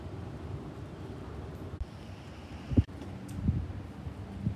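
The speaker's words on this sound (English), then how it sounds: "there was just another strong wind." Strong gusting wind in Gonzales, Louisiana buffets the microphone in low, rumbling surges, with a couple of louder thumping gusts near the end.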